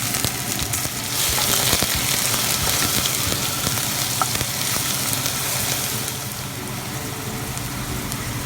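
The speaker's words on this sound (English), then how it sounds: "you're going to add your onions and garlic. And stir them up a little bit so that they do not burn." Onions and garlic fry in caramelizing sugar, a loud, dense, continuous sizzle and crackle close up, with occasional stirring clatter and no talk.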